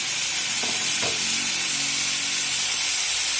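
Cumin and black pepper powder sizzle and fry with moringa drumstick chops in a hot pan, a loud, steady hiss with no talking.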